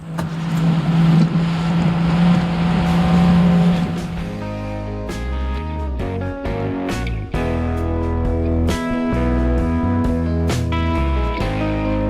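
A fishing boat's outboard motor runs on the water, a loud steady engine drone with a strong low hum that shifts pitch midway, heard alone without talk.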